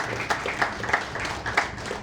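An audience at a January membership meeting claps to welcome Joe Stapleton. The applause is steady and moderately loud, with a few sharper claps standing out.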